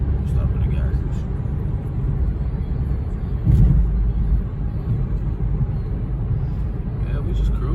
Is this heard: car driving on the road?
yes